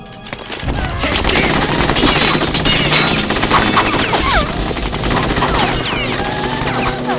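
Rapid automatic gunfire and bursts of shots fill a cutscene in Metal Gear Solid 2: Sons of Liberty, loud and sustained throughout, with impacts and crashes layered in and faint voices mixed under the barrage.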